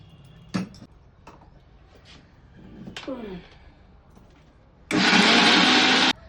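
An electric grinder blends black mustard seeds with salt into a paste, starting as a loud, steady whir for just over a second after some scattered clatter and handling noises.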